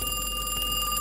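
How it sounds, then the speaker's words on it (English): A telephone rings in the horror video game Kiosk, a sustained, steady electronic trill over a low droning ambience, loud and continuous. "That's the phone. Where's the phone at?"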